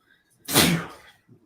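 A single loud, close sneeze, a sharp burst that fades over about half a second, with near silence before and after.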